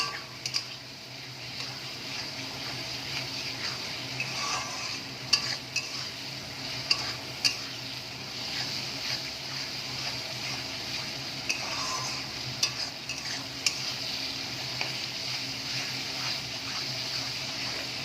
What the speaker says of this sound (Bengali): মশলাটাকে ভালো করে কষাবো